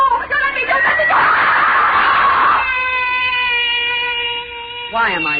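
A scream in a 1938 Lights Out radio drama episode, The Dream: a loud, wavering cry swells for a couple of seconds amid dizzy spoken lines, then trails into strained talking.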